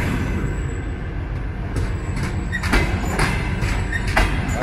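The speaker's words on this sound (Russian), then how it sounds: "Пошел поезд на Питер." Passenger train from Chisinau to Moscow pulling out of a station, a steady rolling rumble with repeated clanks and squeaks of railcars passing close by.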